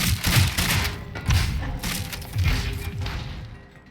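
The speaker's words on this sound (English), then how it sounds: "I heard 2 explosions and one of them exploded" Explosions from firebots in the Scrap Mechanic survival game, several muffled thumping booms with crunchy debris in quick succession, fairly close, fading toward the end.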